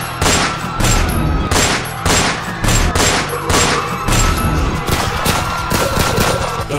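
Rapid bursts of gunfire in The Sims 4 crackle over and over in a dense, continuous barrage of overlapping shots, loud and close, with game-like sharpness.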